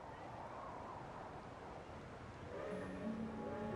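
Train rumble in the video game Genshin Impact, a steady low rolling noise throughout that swells near the end, where a tonal horn-like sound joins in.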